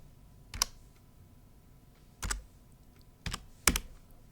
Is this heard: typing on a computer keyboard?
yes